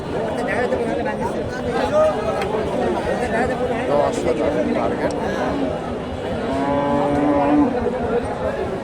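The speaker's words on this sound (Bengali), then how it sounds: "বড় সড়ো গরুটা" Cattle low loudly at a busy cattle market where Friesian bulls are sold, with moos rising over steady crowd chatter and people talking nearby.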